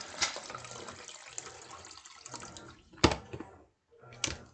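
Water runs and splashes steadily into a kettle or pot for making more coffee in a home kitchen, with a few louder sloshes and clatters near the end.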